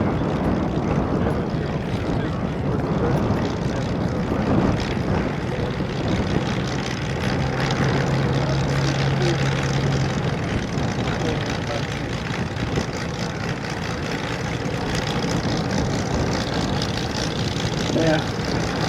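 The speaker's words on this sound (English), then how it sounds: "Dave will just run the engine up a little bit to get it prepared to shut down" A RAAF 100 Squadron CT-4 propeller trainer's engine running on the ground before shutdown, a steady loud drone that holds even throughout, with someone talking faintly over it.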